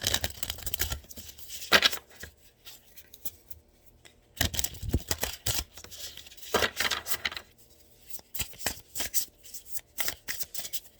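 Angel Wisdom tarot cards are shuffled by hand nearby, with repeated papery riffling bursts separated by brief pauses and no talking.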